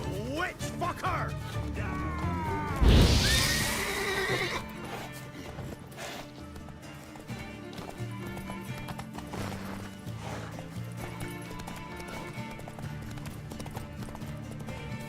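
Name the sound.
horse neighing and hooves, from a video game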